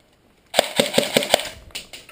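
An airsoft gun fires five quick shots in a fast, even rhythm, sharp and close, followed by a couple of fainter clacks, with no talking.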